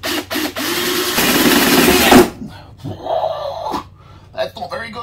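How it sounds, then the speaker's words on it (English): A power drill bites through a car's body panel to make a snorkel hole, a loud grinding whine for about two seconds before stopping, followed by scraping and a person talking. "it's really easy to hold your drill bit in place"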